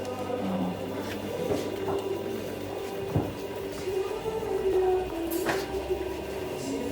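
A scribing machine runs in a Kenyan fashion workshop, giving a steady mechanical hum with a sustained whine and occasional clicks and knocks throughout, fairly close and continuous.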